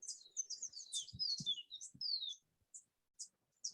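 A mountain thrush sings at Savegre Hotel in the Costa Rican highlands, a run of high, clear, rapid warbling phrases that trails off into a few separate chirps, fairly faint against a quiet background.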